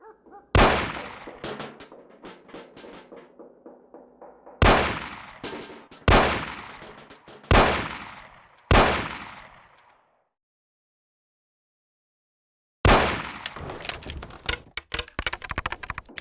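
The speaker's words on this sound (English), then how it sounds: "Shoot the cans off of the table." Gunshots in the video game Mafia as cans are shot off a table: five sharp loud reports spaced a second or two apart with ringing decays, a silent pause, then a rapid clattering burst of shots and impacts.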